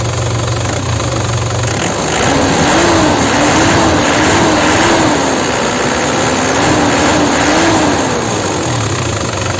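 The diesel engine of a 2009 Isuzu Panther Grand Touring with manual transmission is revved in a few steady rises and falls, loud and close, with no voices.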